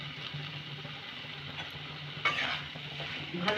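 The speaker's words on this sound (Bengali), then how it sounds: "ভালো করে আমি মটরের সাথে মিশিয়ে নেব" A spoon scrapes and stirs fried cauliflower together with peas and spices in a pan, a soft continuous sizzle under repeated utensil scraping, close but fairly quiet, with no one speaking.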